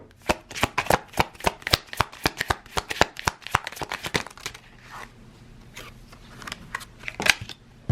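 A deck of tarot cards is shuffled close up: a fast run of crisp riffling snaps for several seconds, then softer, looser shuffling and a final flick, with no speech.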